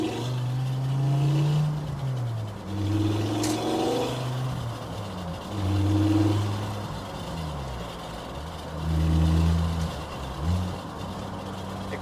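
A Mk2 Volkswagen GTI swapped to a five-cylinder engine pulls hard through several gear changes, its drone rising and dropping in repeated surges, loud and close from inside the car with no talk.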